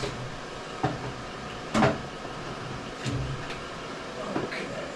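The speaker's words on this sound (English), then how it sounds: "And I'll put that in the bottom drawer here" A drawer under a Brown & Sharpe milling machine slides and knocks shut, giving a few dull clunks and scrapes, with one louder thump, over a steady background hum in a machine shop.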